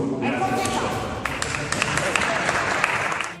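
Applause at the swearing-in of three new regional assessors appointed by Schifani, a sustained roomful of clapping with a few sharper individual claps, fairly close and steady, fading slightly at the end, with some voices underneath.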